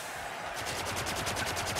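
Carbine gunfire in the Halo video game, a rapid, even burst of sharp repeated shots building over about a second, loud and continuous with no speech.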